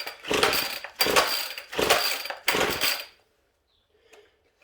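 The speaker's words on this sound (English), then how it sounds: "your hedge trimmer's a piece of crap" Ryobi hedge trimmer engine being pull-started, four sharp close bursts of rattling mechanical noise at a steady rhythm that never catch, then near silence.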